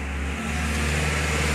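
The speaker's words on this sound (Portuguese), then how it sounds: "Caminhão." A truck passes on a city street near a square, its broad engine rumble and road noise steady and close throughout the short stretch, with no talk over it.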